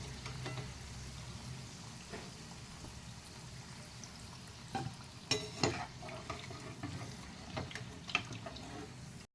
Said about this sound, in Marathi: थोडंसं भाजत आलं की मग पलटायचं दोन्ही साईडनं चांगलं भाजून घ्यायचं